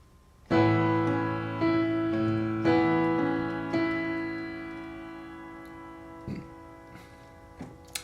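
Piano chords struck in a slow phrase, each note ringing out and fading before the next, with a couple of soft final notes.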